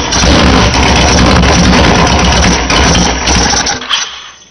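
A 2004 Honda VTX 1300 motorcycle with a dry carburetor cranks on starting fluid, its engine churning loudly and continuously close up, nearly catching before fading out at the end.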